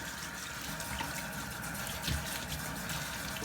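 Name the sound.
water running from a tap while washing hands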